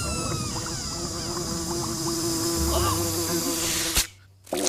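A cartoon fly buzzes steadily and close for several seconds in an animated troll comedy, then the sound cuts off with a sharp thump and near-silence.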